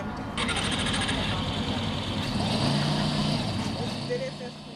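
A car engine at a driving school runs steadily and loudly, with a continuous broadband rumble and hum that holds throughout. A voice can be heard talking over it.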